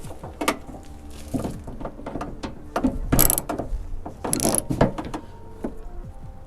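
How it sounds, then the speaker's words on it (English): A hand ratchet clicks in quick irregular bursts while snugging a bolt on a Toyota 4Runner driver-side door during lock cylinder repair, sharp close ratcheting with short pauses between strokes. "I like to hand tighten with a ratchet just so it doesn't over tighten."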